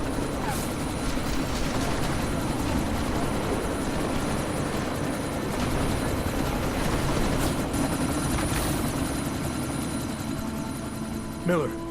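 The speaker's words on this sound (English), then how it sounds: "You need to disable that chopper." A helicopter in the game Deus Ex drones with a constant rotor throb and engine hum, steady and fairly loud throughout, with a brief mechanical sound near the end.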